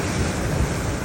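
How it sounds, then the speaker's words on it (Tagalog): Big storm-driven ocean waves along an Australian fishing shore, a loud, rough, continuous roar of surf mixed with gusting wind on the microphone, with no voices. "Ang lalaki ng alon."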